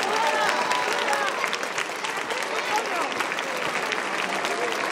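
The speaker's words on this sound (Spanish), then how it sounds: "un fuerte aplauso para ellos" Audience applause for the Berrinche comparsa dancers at a festival event in Tudela, a dense, steady crowd clapping throughout with voices faintly mixed in.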